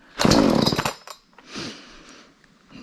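A Homelite Super XL chainsaw fires up with a loud, close two-stroke roar that cuts out after about a second, followed by a weaker sputtering attempt and some faint clicks.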